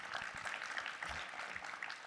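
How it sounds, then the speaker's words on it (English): Conference audience applauding at a climate policy event, a steady wash of many hands clapping that holds evenly throughout at moderate distance, with faint voices mixed underneath. "We could hold the applause till the very end, just maybe."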